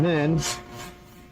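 A file rasps once across an ebonite fountain pen blank in a short, close scraping stroke, right after a brief spoken phrase.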